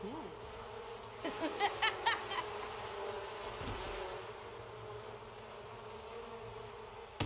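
Buzzing bees from The Sims, a soft wavering drone with a few louder pulsing bursts, faint and close, while a low hum runs beneath.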